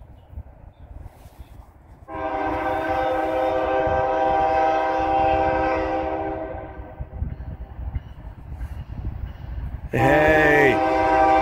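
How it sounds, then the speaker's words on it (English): A loud horn on a CN ES44DC locomotive blares with several sustained chords, then a southbound autorack freight train rumbles past nearby, followed by a brief voice at the end. "Comes a train."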